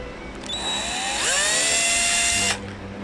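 Small power drill boring holes in a model ship hull, a high whine that spins up and holds for about two seconds, close and clear, then cuts off.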